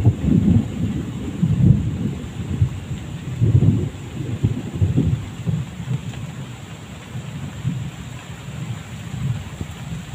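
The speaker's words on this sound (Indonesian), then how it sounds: "Hujan lagi Mas Bro." Rain and thunder at a village river where people are fishing, with a continuous low rumble and patter that stays fairly steady and close throughout.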